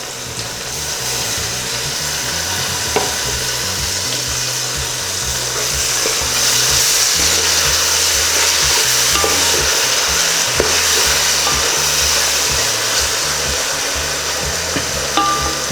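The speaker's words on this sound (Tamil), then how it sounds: "தக்காளி கொஞ்சம் நல்லா வதங்கணும்" Tomatoes and green chillies sautéing in a pan, a steady soft sizzle running throughout with scraping, stirring strokes and a faint musical backing underneath.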